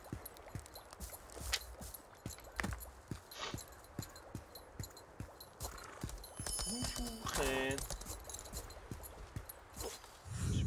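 Steady clip-clop of a horse's hooves at a walking pace in a video game, fairly close, with a brief snort or whinny partway through and faint talking underneath.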